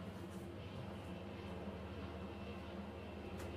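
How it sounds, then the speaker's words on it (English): An airplane flies overhead outdoors as a steady, broad low rumble that holds evenly throughout, distant rather than close, with no talking over it. "Like that airplane outside."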